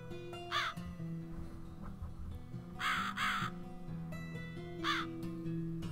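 Digital crow caws from the horror game The Cat Lady: three loud bursts of harsh, wavering cawing spaced about two seconds apart over a steady droning musical background.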